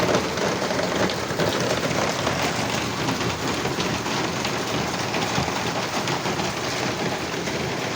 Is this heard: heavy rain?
yes